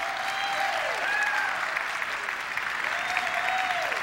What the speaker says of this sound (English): we can kind of give you a clap